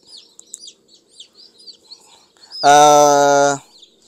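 Chickens at a poultry breeding setup give a sustained loud harmonic squawk lasting about a second, with faint chirps and peeps scattered before and after.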